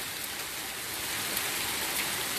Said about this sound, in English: I don't know how long this rain gonna last though.